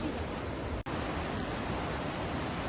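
Rushing water from a waterfall near Boat Nala in Jammu and Kashmir pours in a steady, broadband roar, close and constant, cut by one brief dropout near the start before resuming unchanged.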